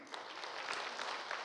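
Brief burst of group clapping from a church congregation, dense and even, with no talking over it.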